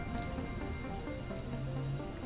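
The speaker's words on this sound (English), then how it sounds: "It's raining on Mars." Steady rain patters continuously on surfaces in Surviving Mars, an even, moderately quiet hiss with no voices.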